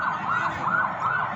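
A police siren wails in rising and falling sweeps, loud and steady over faint background noise as police vehicles respond near a Quezon City street.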